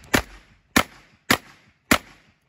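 Four sharp, loud shotgun blasts from a BOSSAN assault shotgun during test firing, in a steady, evenly spaced sequence, each with a short decaying tail, and no talking.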